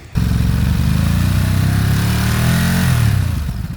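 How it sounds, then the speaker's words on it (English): A 2021 Ducati Monster 937 on its stock exhaust starts up and revs, a close, loud, throaty engine rumble that rises in pitch and falls back near the end. "Even the stock exhaust sounds really great."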